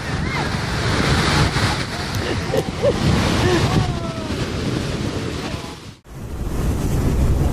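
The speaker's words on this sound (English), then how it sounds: "When the waves hit, the water shoots up in massive splashes, creating the dramatic effect of the cliff crying." Ocean waves crashing against a cliff: a continuous heavy roar of surf with buffeting wind noise, loud throughout, with a brief dip and cutoff before the roar resumes; faint voices may be mixed in.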